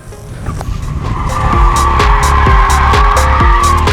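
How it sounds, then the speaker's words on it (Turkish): Togg electric car on 22-inch wheels drifting, tires squealing loudly and continuously with a steady screech and rising engine-like whine, close and nearly alone with little talk. "lastiği yakacağım ha"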